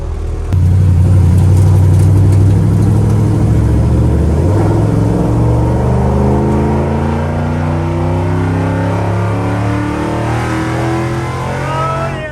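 A deep Ford Coyote V8 engine in a Ford F100 truck revs hard and loud, rumbling up and falling back repeatedly, close by with no talking.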